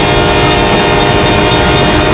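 A train thunders through a rail crossing, loud and near, with continuous rumbling, horn tones and faint rhythmic clicking of wheels.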